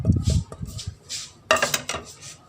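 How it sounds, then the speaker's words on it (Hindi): A spoon scrapes and knocks against a dish while kofta paste containing green chillies is mixed with fresh coriander for a beef kofta curry. The sounds are close-up and busy, with repeated clinks and a denser burst partway through, and there is no speech. "अच्छी तरह से इनको मिक्स करना है।"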